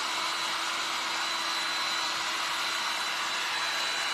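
A heat tool warms painted resin pieces to flatten them, giving a steady, even electric whir and airflow hiss throughout, close and moderately quiet, with no voices.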